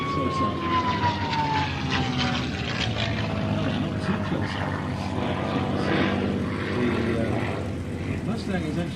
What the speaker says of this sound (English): Oh, listen to those aircraft. That is wonderful.